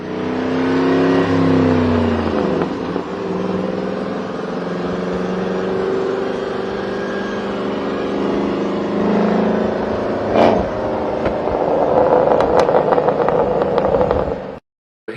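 A 2003 Ford Mustang Mach 1, rebuilt after a crash, revs its engine and drives off, the exhaust note rising and falling through several loud pulls before cutting out abruptly.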